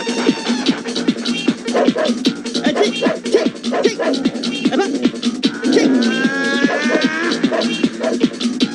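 A dog barks repeatedly in a Telugu film scene, sharp rhythmic barks close and loud with some yips and whimpers, backed by music throughout.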